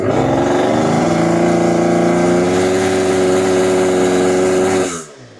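A damaged Yamaha Aerox scooter engine is held at full throttle, giving a loud, steady, strained drone that never climbs in pitch, then cuts off abruptly just before the end.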